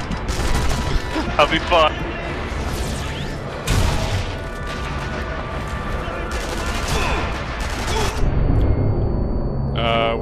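Gunfire in the World War II shooter Sniper Elite V2: scattered loud shots and bursts crack repeatedly over continuous battle noise, with someone talking briefly in the middle.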